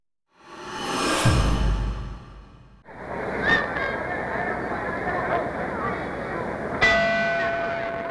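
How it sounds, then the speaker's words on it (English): A boxing ring bell clangs at the start of round 5 in a 1960s world welterweight title fight, a sharp metallic strike over a noisy arena crowd, with a commentator talking over the din. "There's the bell for round 5."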